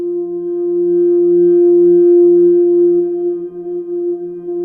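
Synth sine waves playing in Bitwig Studio, a steady sustained chord of pure tones with a pulsing lower note, loud and clean without voices, swelling and then fading slightly at the end.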